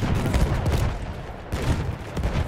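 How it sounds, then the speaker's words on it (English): Machine gun fire rattles through a Battlefield 1 battle in the Argonne Forest, loud overlapping bursts forming a dense, rumbling barrage with a brief dip midway. "Machine gun!"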